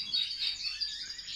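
A goldfinch chirps in a quick run of bright, high twittering notes, continuous and fairly close with no talking.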